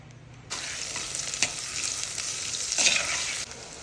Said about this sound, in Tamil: வெங்காயம் நல்லா வதக்கிடுச்சு